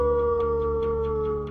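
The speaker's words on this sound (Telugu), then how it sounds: "జాని అంటే కుక్క" A dog howls in one long, steady, drawn-out wail that holds its pitch throughout, loud and close, with faint rhythmic ticking behind it and no talking.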